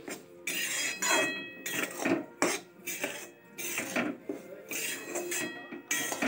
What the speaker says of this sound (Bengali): আমি আগে থেকে খোলটাকে ভেজে নিচ্ছি